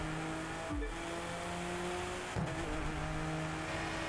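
BMW M4 in the racing game The Crew 2, engine revving and accelerating hard with gear shifts, then braking briefly before accelerating again, loud and continuous with no talk.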